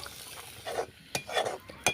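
Oil sizzles softly as fish belly pieces fry, while a utensil scrapes and clinks in the pan a few times, no voices.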